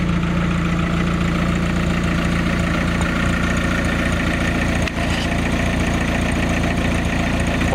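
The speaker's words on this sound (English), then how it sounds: "As you can hear, the exhaust sounds great. It's a MagnaFlow stainless steel muffler." A Volkswagen Vanagon Westfalia engine idling through a MagnaFlow stainless steel muffler, a steady, loud low rumble with an even mechanical knock that holds unbroken throughout, recorded close up.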